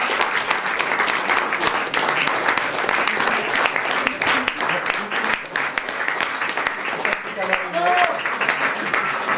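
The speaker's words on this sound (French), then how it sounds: "vous pouvez l'applaudir" Audience applause for a singer on a French talk show: loud, dense clapping throughout, with crowd noise and voices mixed in and a short sung or spoken tone near the end.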